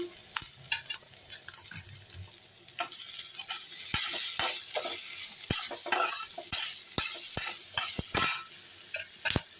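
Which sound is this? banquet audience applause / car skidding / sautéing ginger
sautéing ginger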